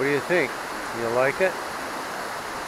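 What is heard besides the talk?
waterfall at Lake Quinault, Olympic Peninsula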